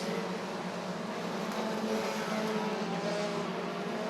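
Bandit-class race cars roar around Rockford Speedway in a feature race, a continuous dense engine drone from a pack of cars at mid distance, steady and loud with no break.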